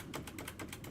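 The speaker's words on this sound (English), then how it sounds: "Can you hear me clicking the spacebar?" Spacebar clicks on a computer keyboard, a quick run of about eight soft, evenly spaced taps, close but quiet against a faint background hum.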